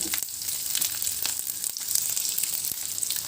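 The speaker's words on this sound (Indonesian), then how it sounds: "Ini bumbunya akan saya goreng sebentar." Ground spice paste sizzles and spits steadily in a small amount of hot oil, a dense, continuous frying hiss with occasional stirring scrapes and no talk.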